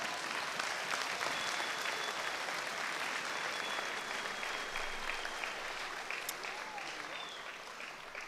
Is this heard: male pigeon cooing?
no